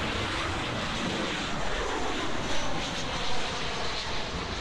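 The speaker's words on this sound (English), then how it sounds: "We have an American Airlines Boeing 737-800 arriving in from San Pedro Sula as flight AA614." An American Airlines Boeing 737-800 arriving on runway 09 at Miami International Airport: a loud, steady broadband jet engine roar that fills the whole clip without pause, with no voices.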